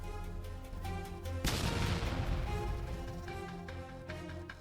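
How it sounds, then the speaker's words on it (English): Powerful drone strike explosion on a Russian transport vehicle, a sudden loud broadband blast that tears off the roof, followed by a long rumbling decay under a dense, noisy background. "striking the center, causing a powerful explosion that tore off the roof"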